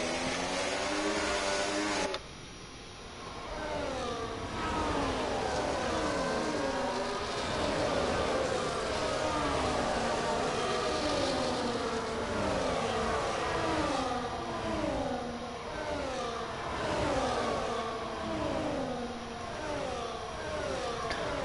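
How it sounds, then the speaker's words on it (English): Racing cars in a Formula racing video game at the Saudi Arabia Grand Prix circuit, engines whining and sweeping up and down in pitch as they go by one after another, a continuous layered drone with faint talk. "Just listen to those cars go by and do their laps perfectly."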